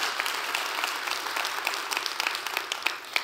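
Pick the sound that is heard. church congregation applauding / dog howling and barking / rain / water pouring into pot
church congregation applauding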